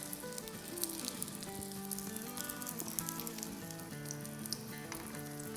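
Potato and egg stuffed cutlets sizzle steadily in oil in a pan over medium-low heat, a close, continuous crackling fry with no voices.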